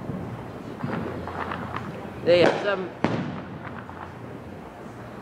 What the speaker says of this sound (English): So now there's fireworks going off.